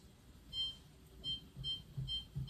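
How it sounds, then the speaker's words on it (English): Faint, high electronic beeps repeat in short bursts over a low background rumble, like a kitchen timer going off. "set the timer for about 5 minutes"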